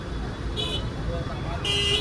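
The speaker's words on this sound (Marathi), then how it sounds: "ट्रॅफिक तर भरपूर लागलेले आहे पुढे" Heavy road traffic backed up at a Nepal border checkpoint gives a steady rumble of idling engines, with two short high horn toots as someone talks over it.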